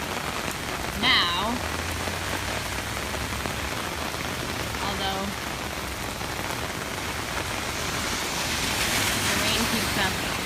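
Steady rain pours onto a flooded New Orleans street, a dense hiss of drops hitting water throughout, with a few brief spoken words and faint passing vehicle sounds.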